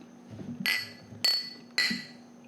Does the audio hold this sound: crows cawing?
no